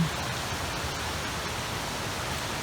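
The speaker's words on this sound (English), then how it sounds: "Going along this creek. Little waterfalls along the way." A New Jersey creek with small waterfalls rushes in a steady, dense broadband wash, close and even throughout with no voices.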